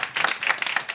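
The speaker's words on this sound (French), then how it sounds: "Peut s'applaudir encore bien, mais bien fort." Brief burst of lively applause and clapping from a gathered crowd, close and fairly loud, uneven with distinct hand claps poking through for about a second.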